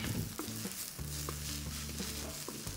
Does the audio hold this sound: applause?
no